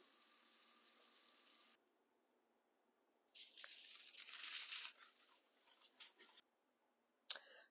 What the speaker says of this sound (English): I'm gonna rinse my hands